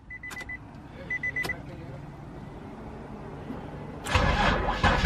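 An Infiniti G35 with a VHR engine, just repaired for a fuel problem, gives two short warning chimes, then after a quiet stretch cranks and fires into a loud, close start at the very end.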